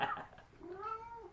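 A cat meows and yowls loudly and close by, a short drawn-out cry with a rising and falling pitch, heard alone with no talking.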